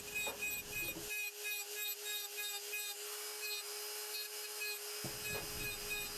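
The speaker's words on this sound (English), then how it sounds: "You do need lots of rest when using the die grinder because it's kind of heavy." Die grinder carving texture into wood during a woodturning and carving demo: a steady high-pitched motor whine runs throughout, with gritty burr-on-wood grinding at the start and end.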